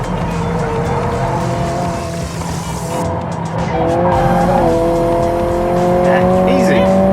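A 2022 Honda Civic Si engine drones loudly and close on a race track, its pitch climbing as it powers out of a corner, with faint tire noise underneath.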